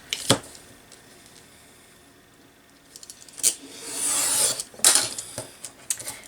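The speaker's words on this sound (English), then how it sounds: "Oh, I've got a little bit there I've got to cut off." Scissors cut a small strip of paper from a purple tissue box journal, with a few sharp snips and a brief rustle of paper, close and fairly quiet.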